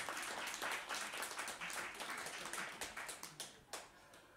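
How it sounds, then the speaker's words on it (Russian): Audience applause at a jazz quintet concert, a dense patter of many hands clapping that stays fairly faint and distant, thinning out toward the end. "не стесняйтесь, хлопайте Святославу."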